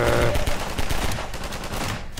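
Gunfire in the Half-Life 2 video game: loud, rapid bursts of shots with dense, overlapping reports that run through the whole stretch and fade slightly toward the end.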